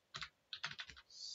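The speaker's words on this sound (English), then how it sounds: "And I will type" Typing on a computer keyboard while setting up an ADC on a PIC24HJ128GP502 microcontroller: a few quick bursts of close key clicks in an otherwise quiet room, followed by a steady faint hiss.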